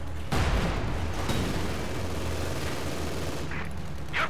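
Gunfire in Company of Heroes 2, Halbe mission with T-34 tanks: a sustained loud clatter of shots and battle noise with a heavy thump at the start and sharper cracks near the end.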